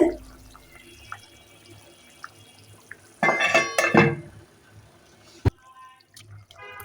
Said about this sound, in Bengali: বলক এসে গেছে